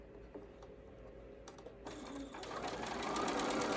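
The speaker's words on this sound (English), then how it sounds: "And then I just continue down, stitching" A sewing machine stitches binding onto a quilted fabric mask, starting with sparse clicks and building into a steady, close mechanical whir that grows louder toward the end.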